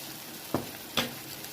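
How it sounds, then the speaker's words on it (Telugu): Tomatoes cook with spices in a pan, a quiet steady sizzle broken by two sharp stirring scrapes about half a second apart. "ఇప్పుడు టమాటాలు బాగా మగ్గి వరకు ఇది వేయించుకోవాలి"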